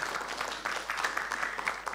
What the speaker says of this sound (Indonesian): Tepuk tangan untuk Ibu yang luar biasa ini.